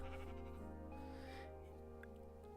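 A sheep in the Minecraft video game bleats in a faint, wavering, harmonic cry that lasts a couple of seconds, with no other sound alongside.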